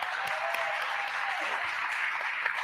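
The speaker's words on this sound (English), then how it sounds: "So everybody give Doc a round of applause real quick." An audience at a professional members' conference keynote session gives a round of applause for an honoree, with steady, dense clapping filling the room throughout without a break.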